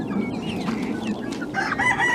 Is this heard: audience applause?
no